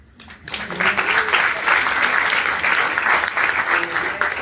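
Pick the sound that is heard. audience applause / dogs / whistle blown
audience applause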